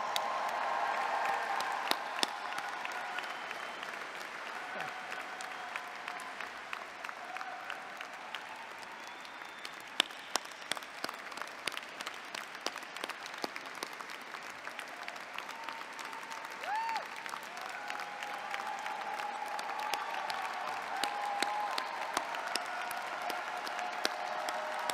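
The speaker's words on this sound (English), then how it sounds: "How about another incredible round of applause for the Penn Engineering class of 2025?" An audience at a Penn Engineering commencement ceremony applauds at length, steady crowd clapping heard from a distance in a large space, with individual sharp claps standing out now and then.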